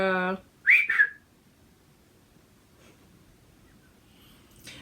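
A short rising two-note human whistle, fairly clear and close, following a brief voice, then near silence with faint background noise.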